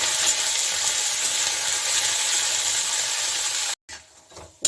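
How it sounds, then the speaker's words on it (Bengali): Curry leaves frying with peanuts in a hot pan give a steady, loud sizzle and hiss that runs unbroken for several seconds, then cuts off abruptly before a few quieter crackles return near the end. "বাদামের সঙ্গে ভাজা হয়ে যাবে।"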